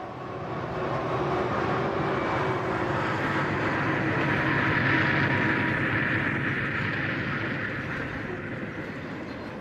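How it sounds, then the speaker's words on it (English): Two EMD diesel locomotives teamed with a GE U50C of the Union Pacific pass at Hellendale near Cajon Pass, a broad steady engine roar and rail rumble that swells and then eases slightly. "we catch two EMD double diesels teaming up with a GE"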